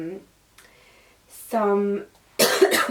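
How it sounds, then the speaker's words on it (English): A harsh, close cough bursts out near the end, after brief speech sounds and a voiced tone. "sorry, I will cough loads in this video"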